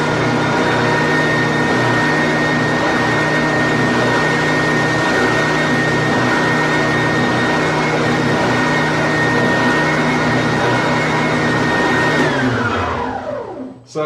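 A WEN 6524 oscillating belt and spindle sander runs with a loud, steady motor whine and hum, then is switched off and winds down in the last two seconds.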